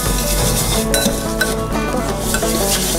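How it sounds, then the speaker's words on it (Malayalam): Sugar is mixed into cake batter until it melts for an eggless rose milk tres leches cake, with loud, continuous close-up stirring and scraping in a bowl and no voices. "ഷുഗറൊന്നും മെൽറ്റ് വന്ന വരെ നമ്മളതൊന്ന് മിക്സ് ചെയ്ത് കൊടുക്കണം."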